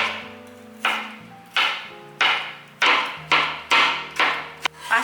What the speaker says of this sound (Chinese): 一样也是切成丝